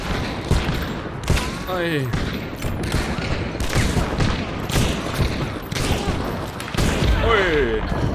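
Repeated gunfire in the video game Hunt: Showdown, loud shots cracking out in bursts across the whole stretch, mixed with thuds and game effects while a player talks and exclaims over it.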